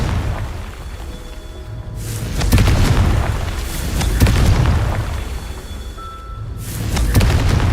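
Confringo fire spells blasting in the video game Hogwarts Legacy, heard as several loud, deep booms with rumbling tails that rise and fade in waves, without any talking.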